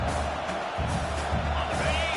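A football stadium crowd at a college playoff game roars and cheers in a broad, continuous wash of noise, loud and steady throughout, with no clear individual voices standing out.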